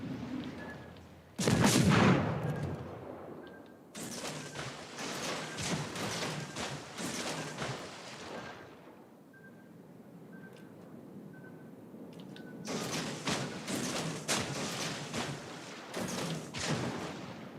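The warship Julius Caesar fires its main guns in a naval video game: heavy booming salvos that roll on for several seconds, then a quieter lull, then another long burst of thunderous gunfire.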